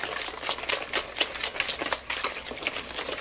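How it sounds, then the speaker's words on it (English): Zucchini banana bread ingredients are whisked in a bowl, a fast, steady scraping and tapping rhythm close up that continues for a few seconds with no voices. "we're just going to kind of whisk this together just to get everything a little bit incorporated"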